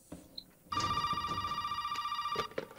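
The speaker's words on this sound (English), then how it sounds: "Where's the phone? The phone. It's ringing." In the Resident Evil 7 VR game, a telephone rings with a steady electronic trill lasting nearly two seconds, close and clear, with faint footsteps and movement around it.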